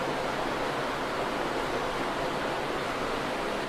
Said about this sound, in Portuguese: Vocês estão ouvindo a água? A água da fonte de Gion corre aqui até os dias de hoje